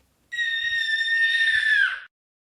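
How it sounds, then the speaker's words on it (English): A single piercing scream used as a sound effect in a read-aloud children's story, sustained for nearly two seconds and dropping at the end, with silence before and after. "The therapist screamed"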